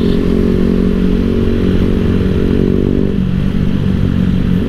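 Yamaha R15 motorcycle exhaust idling and burbling at close range in a street in Pamplona, a steady loud engine drone with harmonic hum that drops in pitch partway through, no talking.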